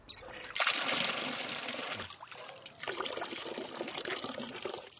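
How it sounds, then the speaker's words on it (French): A river-water filtration machine in China runs with a loud, continuous gush and splash of flowing water, a sudden surge near the start followed by sustained rushing. "inspecter l'une de ces machines à filtrer l'eau de la rivière"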